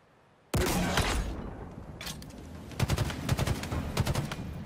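Skewer shots and gunfire in the video game Halo Infinite: a sudden loud burst followed by rapid crackling volleys and sharp repeated shots, with no one speaking.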